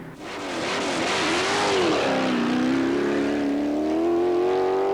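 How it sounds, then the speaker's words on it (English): A V8-powered Scott Climber race car at the 1997 Inistioge hill climb roars loudly and continuously, its engine pitch wavering and dipping before climbing steadily as it accelerates. "mighty V8-powered Scott Climber is a brute to handle"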